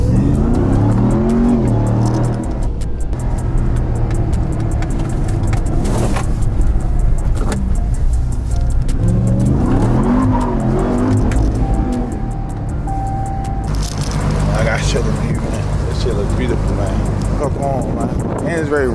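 Ram TRX pickup truck engine running loud and close, rising in surges of revving and acceleration, with road roar throughout and people talking over it.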